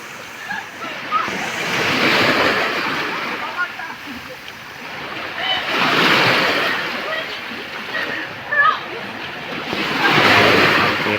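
Ocean waves crash onshore at night under artificial lights, each big surge rising to a roaring wash and falling back in slow cycles, mixed with wind buffeting the microphone and faint voices.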